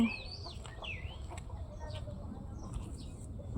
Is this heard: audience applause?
no